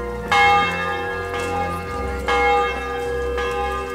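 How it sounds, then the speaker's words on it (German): Church bell tolling noon in the medieval role-playing game Kingdom Come: Deliverance, two or three loud, resonant strikes with long ringing overtones that overlap and sustain between hits. "Ist jetzt das 12 Uhr läuten?"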